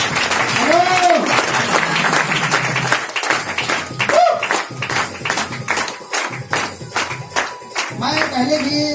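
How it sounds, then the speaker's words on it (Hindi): An audience applauds at a product presentation, scattered clapping that comes in uneven bursts under a voice speaking close to the microphone. "ताली चाहूंगा।"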